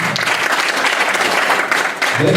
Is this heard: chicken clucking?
no